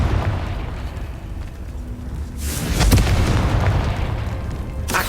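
Confringo blast spell in the video game Hogwarts Legacy, a sharp explosive burst partway through over a rumbling game background, with another brief crackling hit near the end.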